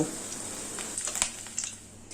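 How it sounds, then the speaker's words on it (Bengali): Parshe fish frying in hot oil in a pan gives a steady close crackling sizzle, with a few sharper spatters and the light scrape of a turner partway through. "আমি উল্টে পাল্টে বেশ লাল লাল করে ভেজে নিয়েছি।"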